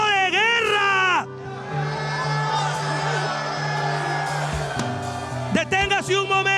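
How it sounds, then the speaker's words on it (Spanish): Church congregation at a worship service shouting a loud battle cry together, a sustained crowd roar with whoops and screams lasting several seconds, with a voice over it at the start and again near the end. "Prepare el grito de guerra más fuerte que usted haya lanzado"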